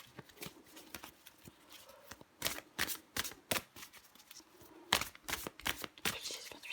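Tarot cards shuffled and drawn by hand, a run of crisp riffling flicks and snaps in close succession, fairly near and alone without talk.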